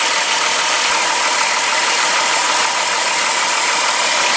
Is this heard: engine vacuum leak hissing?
yes